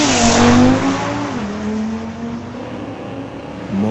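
A 2018 Audi and a 1973 Plymouth Scamp launch side by side in a street-legal drag race at a raceway, engines roaring loud and close before the sound falls to a steady high whine as the cars pull away.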